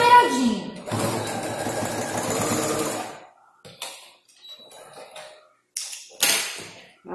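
A sewing machine runs steadily for about two seconds, stitching bias binding along the edge of a multifunction wallet, then goes quiet as a few short handling clicks and brief voices follow.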